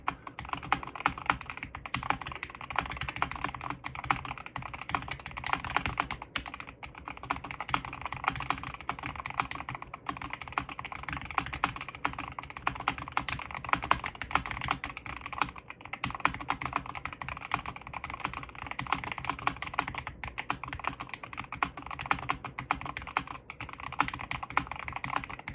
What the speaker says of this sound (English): so I'm just gonna type a bit on it for the first time